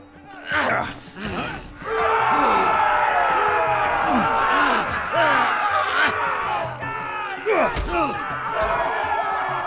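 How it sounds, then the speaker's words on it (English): An arena crowd roars, shouting and cheering continuously and loudly for several seconds, with thuds and yells mixed into the dense wall of voices. "Hear that, boy? We cannot let the crowd go wanting."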